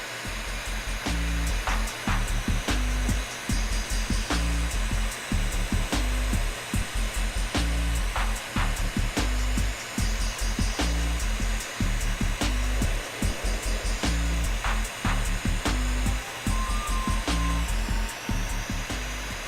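A heat gun blows a loud steady whine while reheating a thin cold weld, with a run of regular clicks and ticks under the continuous airflow.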